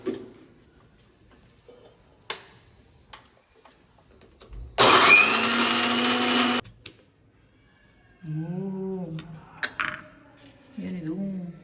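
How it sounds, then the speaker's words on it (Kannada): Biscuits ground into powder in an electric mixer grinder: one loud, steady burst of whirring motor noise lasting about two seconds, close by, with people talking before and after it. "ಅದನ್ನ ಎಲ್ಲ ಬಿಸ್ಕೆಟ್ ಒಳಗೆ ಹಾಕಿ ಗ್ರೈಂಡ್ ಮಾಡ್ತಿದ್ದಾರೆ."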